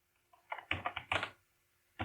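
Fingers tap a computer keyboard in two quick bursts, several crisp keystrokes close by, a pause, then more typing while a ReactJS credentials form file is created.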